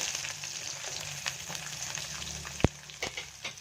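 Chopped onions hitting hot oil with dried red chillies in a pan, a steady close sizzle and crackle with a sharp spatula tap partway through and a few lighter clinks after, no talking.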